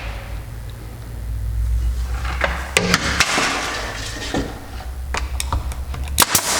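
Sharp, scattered pops and clacks from a nail gun shooting window trim into place, mixed with light handling knocks of the wood. The shots come at irregular intervals, close by, over a low background rumble.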